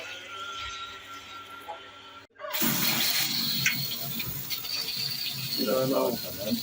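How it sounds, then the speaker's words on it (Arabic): Water runs from an opened tap while a water heater is tested after its rubber washer is replaced; a steady rushing flow starts abruptly after a short quiet, close and fairly loud. "نفتح بقى المية ونجرب."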